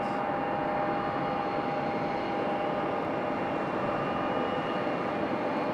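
A Southwest airliner taxis at Raleigh-Durham International Airport with a distant, even engine drone and a faint steady whine, continuous and unbroken across the clip.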